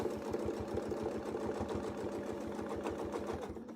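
Close, steady sewing machine stitching as a quilter double stitches back out along a Westalee circle ruler, the needle pulsing fast and evenly throughout.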